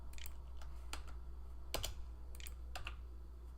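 Typing on a computer keyboard gives a handful of sparse, crisp key clicks in irregular bursts, fairly quiet over faint background hum.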